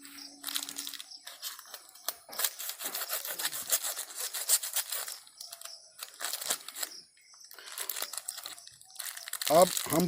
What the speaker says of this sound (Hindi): पॉलीथीन को हटाते हैं और देखिए इतना सारा रूट डेवलप हो चुका है।